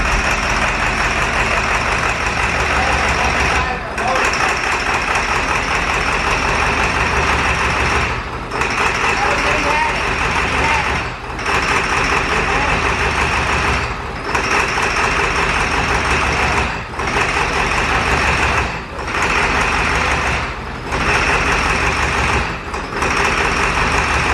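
A 7.3L Powerstroke diesel truck engine idles loudly and roughly, misfiring on one side, its steady rumble broken by brief, regular dropouts every few seconds.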